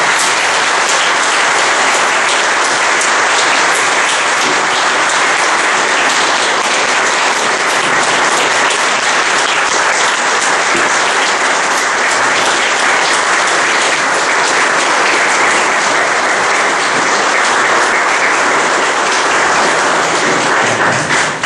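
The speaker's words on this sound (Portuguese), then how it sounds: "eu convido todo mundo a uma salva de palmas" Sustained audience applause at a spiritist centre symposium, loud and steady for over twenty seconds with a dense, even texture from many hands and no break.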